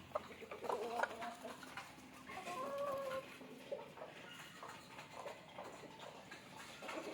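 Country chickens and a rooster cluck faintly and intermittently over a busy rural background, with soft calls scattered throughout.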